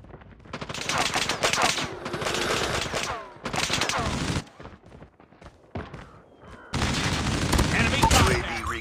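Rapid automatic weapon fire rattles in long bursts during a fast team deathmatch in Call of Duty Mobile, loud and close, broken by short pauses and brief radio-style game callouts.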